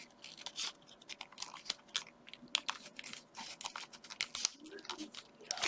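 Paper being firmly creased and pressed while folding a complex origami panda, a close, continuous run of crisp crinkles and rustles with sharper pressing snaps.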